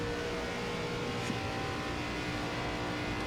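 An ARCA race car at full throttle in iRacing at Michigan, giving a steady, loud, dense engine drone that holds without a break.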